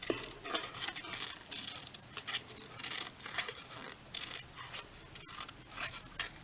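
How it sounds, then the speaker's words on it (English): Scissors snip a jagged edge into white cardstock to shape a cracked egg for an Easter treat box, giving a run of quick, close crisp cuts in an irregular rhythm with no talking. "take your scissors, and I just randomly cut"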